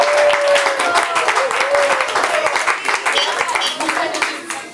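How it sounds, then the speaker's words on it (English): Audience applause at a poetry event in New York, dense clapping from a crowd filling the room nearly throughout, close and steady with a voice cutting in briefly beneath. "And keep your applause rolling for our host tonight, Michael Camacho, who opened up his track."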